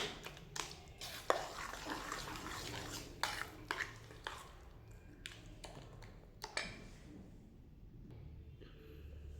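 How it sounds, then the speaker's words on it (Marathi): Pani puri masala and jaggery powder are mixed together in a bowl, with soft scraping and light clinks of a utensil against the dish coming at an irregular pace. The sound is quiet and close, with no talk. "आता हे सर्व मिक्स करून घ्यायचं आहे अगोदर."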